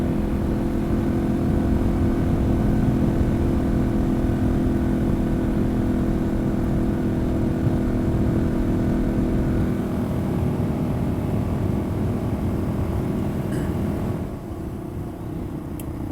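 A Yamaha XT225 motorcycle ridden fast, around fifty miles an hour, along a rough public dirt road in Alabama or Tennessee. Its engine produces a loud, steady drone under wind rush that eases slightly in the last seconds.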